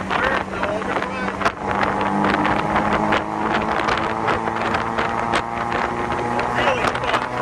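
A 1954 Austin Healey 100-4 BN1 in 100M Le Mans spec cruises in third gear without overdrive at about 1,000 RPM, its low, steady engine drone heard under heavy open-car wind buffeting.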